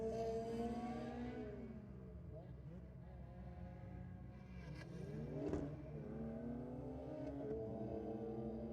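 A Honda drag car accelerates down the strip with rising and falling harmonic engine whine, revving and shifting at a distance, while a commentator talks over it.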